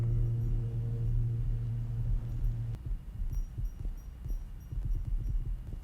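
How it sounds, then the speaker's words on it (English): A distorted kick drum from a song thuds in a low, heartbeat-like throb, first under a sustained droning hum, then as irregular booming pulses once the hum drops away. "Distorted kick."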